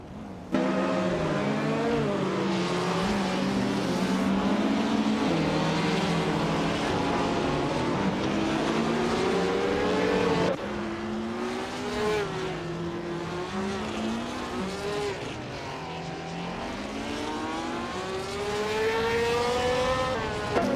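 A 1950 BRM Type 15 race car at Knockhill circuit, its engine howling with strong harmonic tones that rise and fall repeatedly through gear changes and corners, loud and continuous with no talking.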